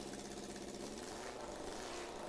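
A race mower engine with an open, unmuffled exhaust runs steadily at close range, a continuous loud idle with a buzzy, pulsing drone.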